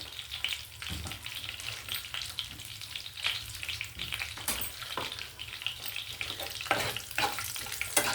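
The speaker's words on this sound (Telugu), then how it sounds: "తిరగమూత వేగిపోయిందండి" Tempering crackling in hot oil for a tamarind leaf chutney, a close, busy sizzle with frequent sharp pops and spatters over a steady frying hiss, no speech.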